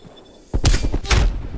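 Two loud, close sniper rifle shots ring out about half a second apart in the video game Black Ops Cold War, each with a heavy report and short rumbling tail.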